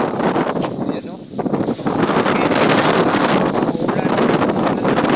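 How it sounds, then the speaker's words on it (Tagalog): Strong wind roars steadily into the microphone with rustling buffeting over a rice field, while a voice speaks briefly near the start. "ang lakas ng hangin"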